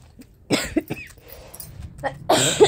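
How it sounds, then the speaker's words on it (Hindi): A person with a cough in a village home coughs in a few rough, close bursts separated by short pauses, with no talking around them. "हाँ दोस्तों खांसी आ रही है हमको"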